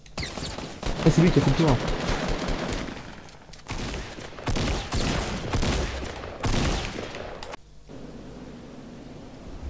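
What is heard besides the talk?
gunfire in video game Fortnite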